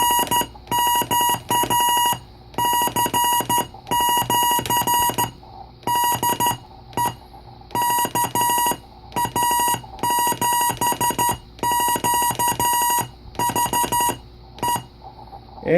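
A Chinese-version Rockmite 51 transceiver sends its side tone through a speaker as loud, steady, buzzy beeps keyed in quick Morse-like bursts and pauses, with no talking.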